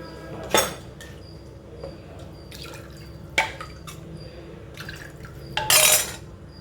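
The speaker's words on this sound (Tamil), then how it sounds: "இந்த மாதிரி சூப் பவுலில் விடுங்க." Hot drumstick (moringa) soup is poured into a soup bowl in a few short, splashing bursts, with occasional clinks of a ladle or vessel between pours.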